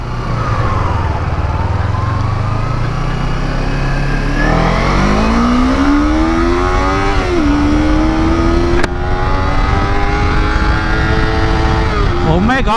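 A Kawasaki Ninja 250R motorcycle engine screams loud and close as it climbs through the gears to very high revs, its pitch rising steadily, dipping at a shift, then rising again.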